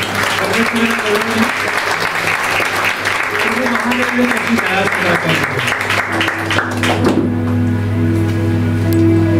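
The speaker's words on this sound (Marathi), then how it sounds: "एकदा जोरात टाळ्या वाजवूया." Church congregation at a Marathi sermon clapping loudly together, a thick sustained roar of applause with voices mixed in, cutting off abruptly near the end into a steady hum.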